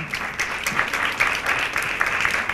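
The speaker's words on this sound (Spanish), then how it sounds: "Recibimos con un fuerte aplauso" An audience applauds steadily throughout, a dense wash of clapping from a crowd at moderate volume.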